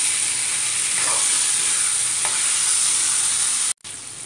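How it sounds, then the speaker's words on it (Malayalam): Cooked chana dal and onions sizzle steadily as they are stir-fried in a hot pan, a constant hissing fry that breaks off sharply near the end. "ഇതിലേക്ക് നമ്മൾ വേവിച്ച് വെച്ചിരിക്കുന്ന കടലപ്പരിപ്പ് ചേർത്ത് കൊടുക്കാം. നന്നായിട്ടൊന്ന് മിക്സ് ചെയ്യാം."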